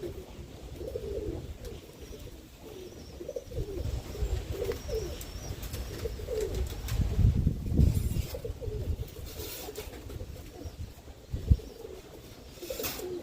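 Mason, Harris and O'Callaghan roller pigeons coo in a loft, low soft repeated coos rising and falling close by, with occasional rustles and a sharp knock.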